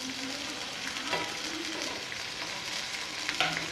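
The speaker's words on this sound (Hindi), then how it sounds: "अब 1 मिनट और भून लेते हैं।" Chopped tomatoes and capsicum frying in a pan, making a quiet, even sizzling hiss that runs the whole time, with a few soft stirring scrapes.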